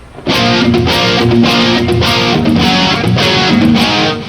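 An electric guitar through a Kemper Stage with a boost engaged kicks in after a brief pause, then plays loud, driven chords in a steady pulsing rhythm.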